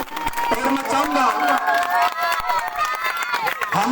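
Loud, continuous applause from an audience at a civic felicitation and inauguration ceremony, with crowd noise and a voice speaking over it throughout.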